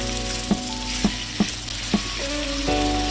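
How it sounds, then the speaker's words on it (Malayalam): Onions sauté slowly in a pan for a chicken roast with a steady, moderate sizzle. Four or five evenly spaced spoon taps and scrapes sound close by, and there is no talk. "സവാള നമുക്ക് നന്നായിട്ടൊന്ന് വഴറ്റണ്ട, പതുക്കെ ഒന്ന് വാടി കിട്ടുന്നിടം വരെ നമുക്ക് വഴറ്റിയെടുക്കണം"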